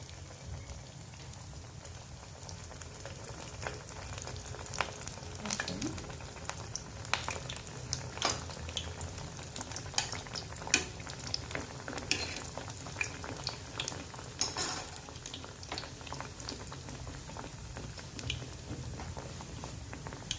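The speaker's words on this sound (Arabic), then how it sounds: "صافي غادي ندوز نقليهم بحال هكا. شفتوا كيتقلاو دغيا." Orange and coconut beignets frying in hot oil, a steady crackling bubbling with scattered pops and sharper spits, close and continuous throughout with no talking.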